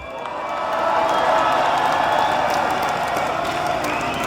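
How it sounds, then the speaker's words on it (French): Festival crowd at an outdoor metal concert applauding and cheering the volunteers, a broad dense wash of clapping and shouts swelling within the first second and holding steady throughout. "on peut les applaudir"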